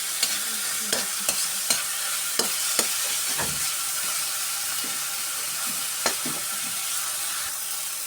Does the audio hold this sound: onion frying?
yes